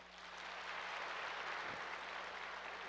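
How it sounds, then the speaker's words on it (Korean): A church congregation applauds together, a soft, even wash of clapping that swells in and holds steady for a few seconds under a low background hum. "크게 박수해 주시기 바랍니다"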